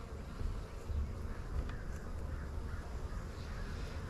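Honey bees hum around a weak, thinly populated hive being opened for inspection, a low, steady drone that stays fairly faint and continuous throughout, with no talk.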